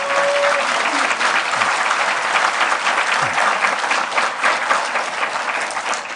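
A large seated audience at a Korean press forum applauds warmly before a keynote speech, steady dense clapping that carries on loud and unbroken throughout.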